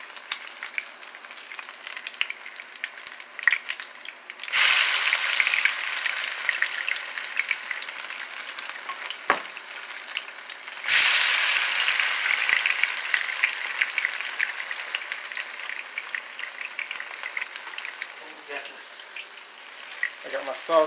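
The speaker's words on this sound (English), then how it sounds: "It's coming back so hot, but I'm actually frying it too fast." Meat frying in grease in a skillet, a loud bright sizzle that surges twice as pieces go in, with soft clicks and faint speech in the background.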